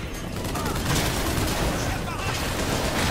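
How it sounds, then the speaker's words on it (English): Dense, continuous gunfire in the video game Bioshock Infinite, a loud sustained barrage of overlapping shots with a voice talking over it. "Who's shooting?"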